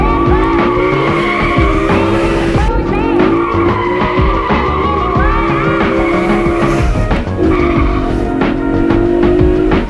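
A BMW E92 M3 with a V8 engine driving hard, its tires squealing in long, loud, wavering wails over a steady engine roar, with one short break before the squeal resumes.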